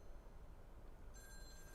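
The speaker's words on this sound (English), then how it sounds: "Okay, phone's ringing." A telephone rings in the video game Lake, a faint tonal ring that starts partway through over a low rumbling in-game background.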